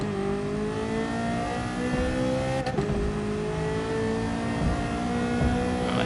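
Race car engine in a racing game on PS4, held against the rev limiter: a steady, loud, buzzing mechanical drone with one brief stutter partway through.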